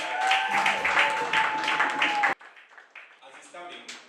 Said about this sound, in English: massive round of applause to Sami Jibona